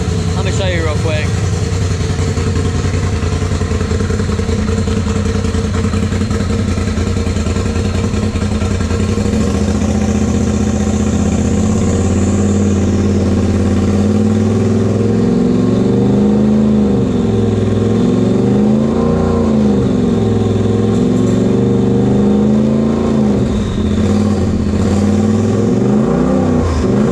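Polaris RZR 1000 XP turbo engine, repaired after a blown head gasket, idles steadily and then revs with rising and falling throttle swells, loud and close, while someone talks over it.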